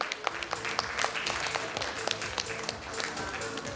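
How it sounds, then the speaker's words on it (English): An audience at an EdTech event claps together, a brief burst of moderately loud, dense applause with sharp individual claps standing out. "Everybody, put your hands together."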